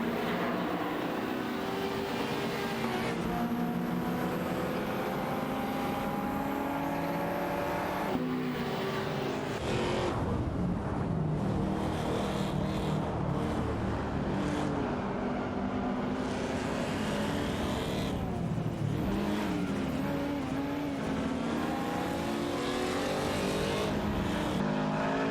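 Several race cars roar continuously in a simulated video-game race, engines revving and shifting up and down as cars pass and jostle, loud and steady throughout with no talking.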